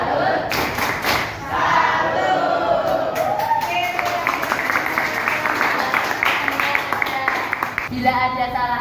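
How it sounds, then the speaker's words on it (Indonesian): A group performs the 'tepuk salut' clapping chant, rhythmic claps and thuds mixed with voices calling out together, fairly close and continuous throughout. "Ayo kita tepuk salut"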